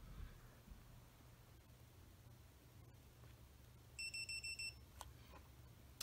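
Five quick high-pitched electronic beeps from a Pet Command dog collar remote confirming pairing, in a rapid even sequence, faint and close, over a low steady hum.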